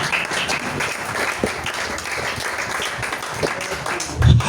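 A church congregation applauds and cheers together in acclaim of the king of kings, a dense, steady wash of clapping that carries through the whole stretch with voices mixed in.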